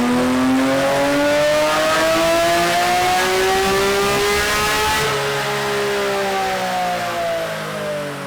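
A full bolt-on Porsche GT3 RS roars through a dyno pull, its engine note climbing steadily in pitch, loud and close for several seconds before easing off.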